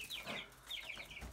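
Chickens cluck and call inside a chicken coop, a rooster among them, with several overlapping hen voices repeating in short bursts close by, steady throughout.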